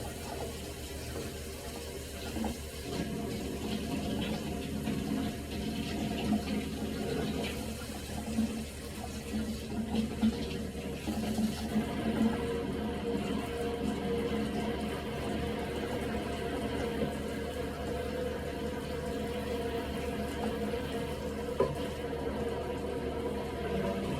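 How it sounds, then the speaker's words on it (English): Water runs steadily from a salon sink faucet onto a client's hair, a continuous broadband splashing wash that holds even and close throughout with no talk over it. "I'm gonna start by turning on the water here"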